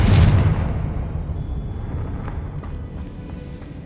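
Confringo fire spell blast in Hogwarts Legacy: one loud, close explosion with a sharp low boom at the start that rumbles and fades over several seconds, with no talk over it.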